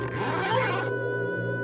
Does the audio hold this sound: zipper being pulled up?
yes